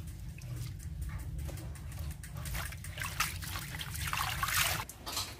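Asiatic pennywort (rau má) leaves being washed by hand in water, with soft, quiet trickling and splashing that swells briefly near the end.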